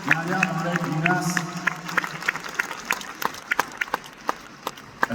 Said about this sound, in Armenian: այս գեղեցիկ եղյակին ևս մեկ անգամ ծափահարենք